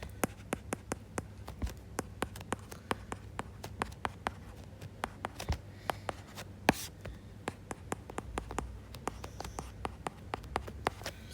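A pen or pencil writes out a math problem by hand, close and quiet, with quick scratchy strokes and regular light taps as marks land on paper, no voices over it.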